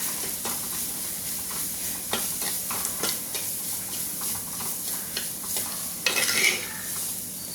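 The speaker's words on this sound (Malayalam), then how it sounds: "ചതച്ച് വെച്ചിരിക്കുന്ന തേങ്ങയും കൂടെ ചേർത്ത് കൊടുക്കുക എന്നിട്ടൊന്ന് മിക്സ് ചെയ്യുക" Crushed coconut stirred into pappadam thoran in a hot pan, a steady low sizzle with repeated spoon scrapes and taps, ending in a brief louder clatter, no voices.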